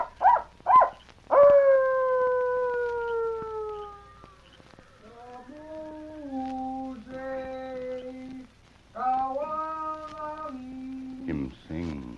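Coyote howls and yips from a radio western drama, a series of long wavering cries that rise and fall, loud and close, with a few sharp barks at the start and a short burst of other noise at the end.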